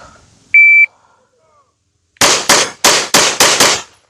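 Rapid string of five loud, sharp pistol shots from a SIG P320 fitted with a compensator, fired in quick succession at a shooting range, preceded by a brief electronic beep.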